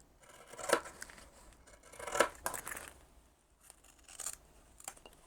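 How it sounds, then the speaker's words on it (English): Scissors snip along the fabric side edges of a tote bag, a few crisp cuts close to the microphone with quiet gaps and faint handling between them. "And trim up these side edges."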